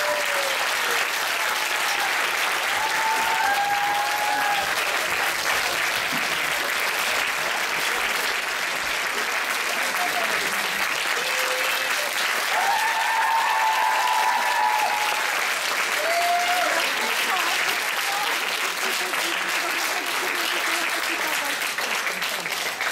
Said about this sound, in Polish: ponownie podziękujmy im burzu oklaski